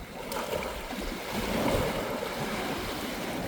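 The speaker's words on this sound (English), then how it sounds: "the waves are still kind of crashing and dashing" Ocean waves crash and wash along the shore at a beach where shark teeth are being hunted, a steady, fairly close surf roar with wind buffeting the microphone and no voices.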